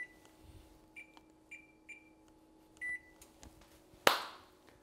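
An oven's control panel beeps as it is set to 400 Fahrenheit: a series of short, clean electronic key tones, five or six spaced chirps with one longer beep, then a sharp click or knock at the end, quiet.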